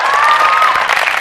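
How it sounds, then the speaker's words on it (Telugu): Studio audience at a Telugu TV comedy show bursts into loud, dense applause, steady and sustained throughout with faint cheering mixed in. "ఒకసారి గట్టిగా చప్పట్లు కొడితే"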